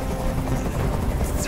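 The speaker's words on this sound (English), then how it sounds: "Tell the helicopter to get out of here." A helicopter in the video game Detroit: Become Human drones steadily with a dense, low whirring rotor rumble, moderately loud and unbroken for a second and a half.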